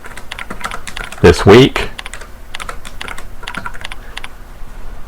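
Keyboard typing on a computer while naming a print ads file, a steady run of light key clicks throughout with a short burst of voice near the middle.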